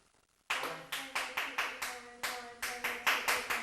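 A single volunteer claps a rhythm measure in a music lesson after a short quiet pause, eleven sharp, close handclaps in an uneven pattern, with a soft voice counting underneath.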